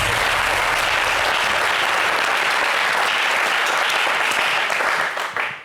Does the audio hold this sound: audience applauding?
yes